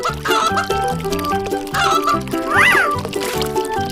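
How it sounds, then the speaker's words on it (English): Cartoon chicken clucking in a quick run of high, bouncy calls over a busy, loud backing of music and effects, with an animated voice present. "Chicken."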